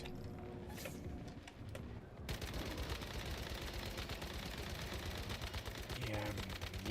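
Rapid gunfire from copper-bullet ammunition in the survival shooter Once Human, a dense continuous burst of shots that starts abruptly partway through after a quieter stretch and stays loud to the end.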